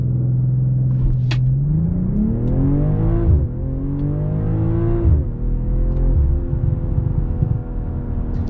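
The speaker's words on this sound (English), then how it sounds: "As you can see, the car is quite fast, especially with the launch control." A 2023 BMW M340i xDrive revs up and accelerates hard using launch control, its pitch climbing through quick gear shifts with a loud, close rumble and whine.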